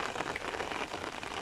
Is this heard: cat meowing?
no